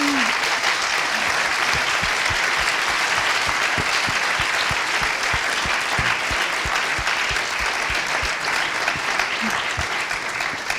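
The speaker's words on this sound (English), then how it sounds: "one final random applause for our panelists" An audience applauds the panelists at the close of a TUM and Google cybersecurity roundtable, sustained clapping of steady intensity across about eleven seconds, with individual claps standing out near the front.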